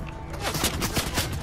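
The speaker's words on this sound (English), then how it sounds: "Oh, I'm being shot at." Gunfire in Fortnite crackles in a rapid burst of several close, sharp shots fired in quick succession.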